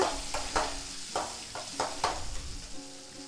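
Chopped onion, ginger and green chilli sizzle in hot oil in a pan for idli upma, a soft crackling fry broken by repeated scrapes and stirring knocks of a spoon.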